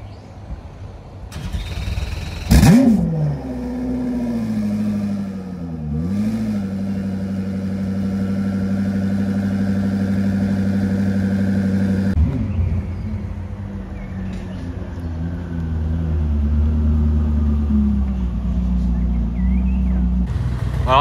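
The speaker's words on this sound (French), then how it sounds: "Regardez là-bas, il y a la 300 SL qui vient de passer." Classic cars, among them a Mercedes 300 SL, rumble past at the end of the Concorso d'Eleganza Villa d'Este as they return to the villa. Engines idle and pull away nearby, with sharp bursts of engine noise at moments.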